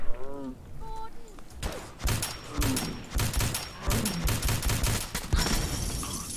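Gunfire in the video game Fallout 4: a run of loud, sharp shots in uneven bursts after a brief tonal game sound, fairly close and continuing to the end.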